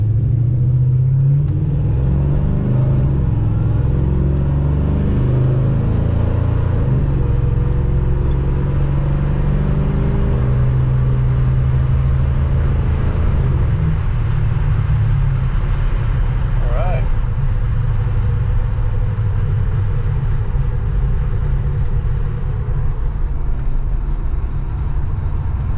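A 1968 Dodge Charger with a 5.7 Hemi V8 running an E85 tune drives along, its steady low engine rumble filling the cabin throughout with slight swells under acceleration, loud and continuous, with a voice talking over it.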